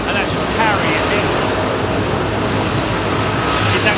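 A jet engine spooling up for an ice-clearing run-up at foggy Heathrow, a loud steady broadband roar that holds throughout.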